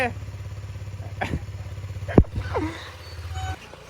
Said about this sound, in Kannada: start the bike